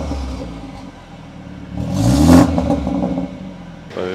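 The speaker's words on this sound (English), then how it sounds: "I'm gonna go around to the back and give you guys an exhaust clip" Exhaust of a BMW with a B48 four-cylinder engine, recorded from behind the car: a steady idle rumble swells into one short, throaty rev and then settles back, loud and close.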